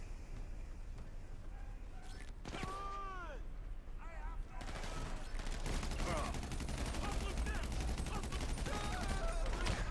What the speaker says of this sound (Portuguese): Tô levando tiro nas costas do nada